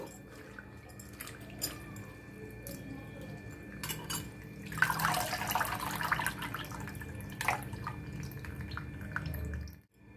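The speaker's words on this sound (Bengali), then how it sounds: "এবারে আমি এগুলোকে জল থেকে তুলে নেব।" Soaked cauliflower leaves lifted out of a bowl of water, with scattered drips and a brief burst of splashing and trickling in the middle, fairly faint and close.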